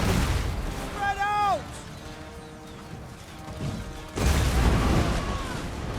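Organ guns in a Total War: Warhammer battle fire in loud booming bursts, one volley early and another heavier crash near the end, amid battlefield clamor with someone talking over it.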